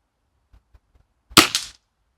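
A single sharp air rifle shot from a Falcon Endura S10i cracks close and loud, preceded by a few faint clicks of handling, then decays quickly into silence.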